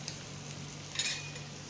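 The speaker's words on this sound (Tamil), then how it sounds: "மஞ்சள் பொடி உப்பு போட்டு ஊறின மீனை எண்ணெயில் போட்டுக்கலாங்க." Fish marinated in turmeric powder and salt sizzles in hot oil, a steady soft frying hiss with a brief louder crackle midway, close and without talk.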